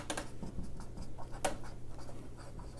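A pen writes the word attorney by hand, a short run of soft scratchy strokes with small taps and pauses, close and quiet, with no talking.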